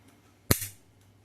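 A folding knife blade snaps shut with a single sharp, loud click, followed by a short fading ring, alone against a quiet background.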